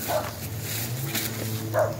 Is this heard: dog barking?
yes